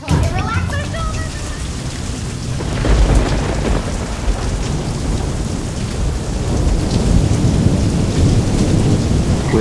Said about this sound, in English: We had some pretty serious storms come through.